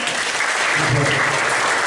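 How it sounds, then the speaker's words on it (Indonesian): Schoolchildren applaud together during a Christian lesson, a steady dense wash of clapping lasting about two seconds with a few voices mixed underneath. "Tepuk tangan dong."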